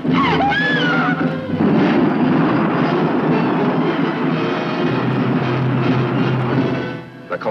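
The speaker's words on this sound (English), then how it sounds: "Get all the aircraft into the air at once." A roaring aircraft engine swells and sustains loudly for several seconds before fading, set in a 1950s atomic-age monster movie trailer, with a whining high tone at the start and no speech.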